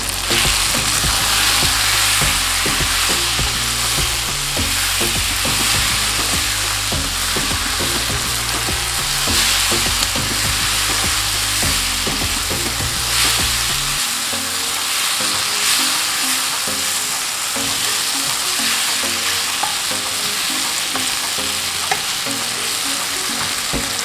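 Aloo baingan sabji with coriander powder sizzles and fries in a pan while being stirred, a loud constant hiss with scraping and clattering strokes from the stirring, and no voices.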